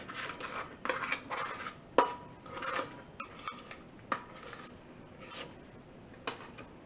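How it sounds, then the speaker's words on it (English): A spatula scrapes and taps against the edge of a mixing bowl while cinnamon streusel coffee cake batter is cleaned off it, a close run of short, uneven scrapes and clicks with no talking. "I use the edge of the mixing bowl to get the spatula clean"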